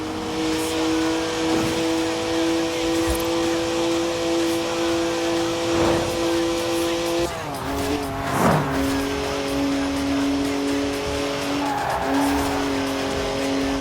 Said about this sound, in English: One of the best BMWs ever made, this. Born to be driven by me.